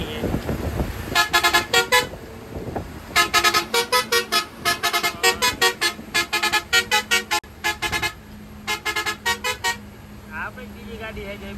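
A goods truck loaded with tiles on a highway passes by, sounding a loud, close, musical multi-tone horn in rapid repeated toot bursts over road noise, with a voice talking at times.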